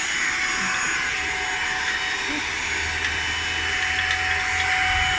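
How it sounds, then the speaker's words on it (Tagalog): A household vacuum cleaner runs steadily during cleaning, a continuous whining drone with a faint high tone, holding level throughout with no clear speech. "pinatay na po ni Daddy yung vacuum cleaner"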